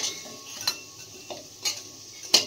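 Green fritters (bora) fry in oil with a faint steady sizzle, broken by a few soft scraping or stirring clicks from a utensil at irregular intervals.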